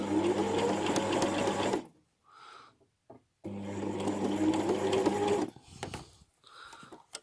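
A sewing machine stitching an invisible zipper runs in two loud, close bursts of rapid whirring and needle clatter, separated by quiet pauses with small handling clicks.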